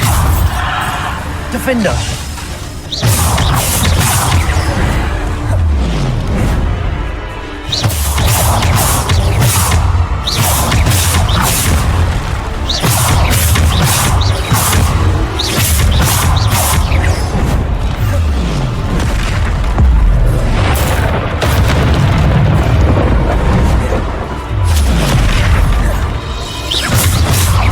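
Hogwarts Legacy combat with Bombarda spell blasts, repeated loud crashing explosions and whooshes over busy game noise, while a player talks excitedly throughout.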